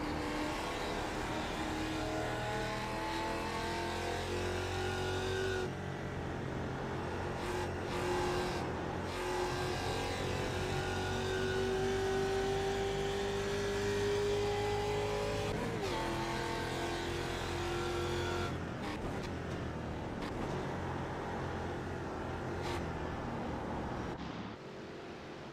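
Ford Mustang race cars roar around Lime Rock in a racing video game, engines droning and rising and falling in pitch as they accelerate and shift, steady and loud throughout with no voices.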